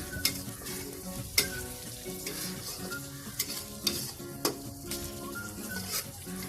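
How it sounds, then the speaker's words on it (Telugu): Green chilli paste and chopped tomatoes frying in a pan for upma, a soft steady sizzle broken by several sharp scrapes and knocks of a spoon stirring against the metal, close up and without speech. "వీటిని యాడ్ చేసుకొని 1 నిమిషం పాటు వీటిని బాగా ఫ్రై చేసుకోండి"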